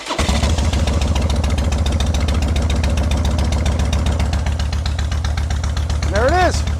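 A small engine, started using the choke, runs at a steady, throbbing idle close to the mic, with an even pulsing rhythm and a short rising squeal near the end.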